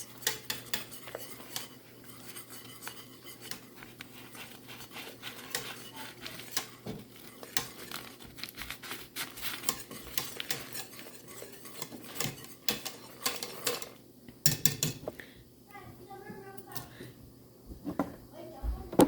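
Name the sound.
stirring pectin into redbud jelly in a pot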